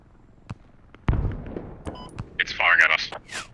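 Enemy vehicle firing at a squad in the Squad video game, a sharp nearby blast followed by scattered pops and a harsh crackling impact, with players talking over it.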